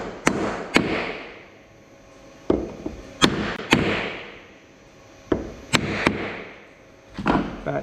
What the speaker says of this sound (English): we're going to knock that back in that side. So lots of banging here.